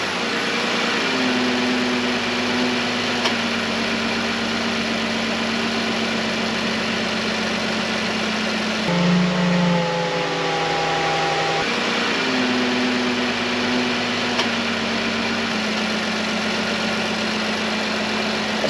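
A car engine idles steadily after a remote start, with a low hum and a faint whine from the power steering system, briefly shifting in tone midway before settling back to an even drone.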